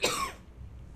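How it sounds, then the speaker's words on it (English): A single short, husky cough rings out close to the microphone at the start, then fades into quiet room tone. "I could cough."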